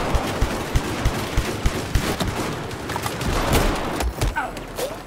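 Shotgun fire in Battlefield 4 sounds in quick repeated blasts with a sharp, punchy rhythm, layered with other gunfire in a busy firefight.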